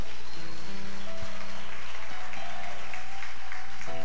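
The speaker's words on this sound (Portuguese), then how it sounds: "Se você quer aplaudir, aplauda." A church congregation breaks into applause during a sermon, crowded clapping over steady sustained organ or keyboard tones, a continuous hall-filling patter at moderate loudness.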